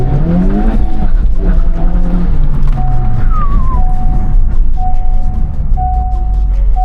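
A Honda Civic Type R race car on slick tyres runs on a track. Its loud, steady engine drones with gear-shift pitch sweeps and faint tyre squeal, and no one speaks.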